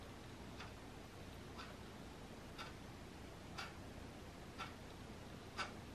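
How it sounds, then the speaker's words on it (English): A wall clock ticks at a steady rhythm of about one tick per second, the crisp clicks standing out clearly over a low, constant background hiss. "This clock is loud as hell"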